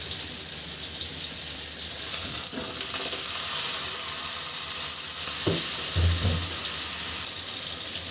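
Vegetables frying with spices and fried onions for a rui fish curry with drumsticks and potatoes, a steady loud sizzle with a few scraping stirs of the spatula near the end.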